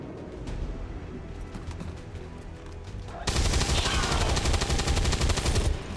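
Machine gun fire from the video game XCOM 2 starts as scattered, distant-sounding shots, then breaks into a loud, dense, sustained burst of automatic gunfire.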